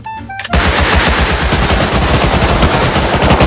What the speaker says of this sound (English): Oh, you're shooting me!